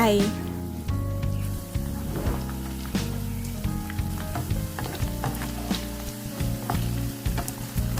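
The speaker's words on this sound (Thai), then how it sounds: "นี่จะทอดไปสักครู่ก็จะเริ่มเปลี่ยนเป็นสีเหลืองนะคะ" Mock crispy pork deep-frying in hot oil, a loud, steady sizzle with crackling pops throughout.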